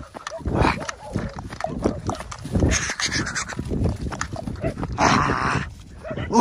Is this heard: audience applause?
no